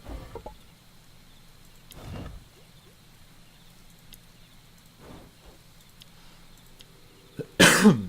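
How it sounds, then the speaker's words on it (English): A few separate coughs break a quiet room, spaced several seconds apart, ending with a louder, harsher cough. "Sorry, the coughing fit from the last is still with me."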